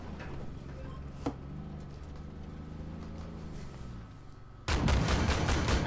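Tank cannons firing in the online game Armored Warfare: a sharp distant shot cracks early, then a heavy loud blast erupts near the end over quiet in-game ambience.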